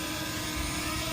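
A DJI Mavic Mini drone taking off gives a steady, close whirring buzz of small propellers that holds at an even level, with no voices over it.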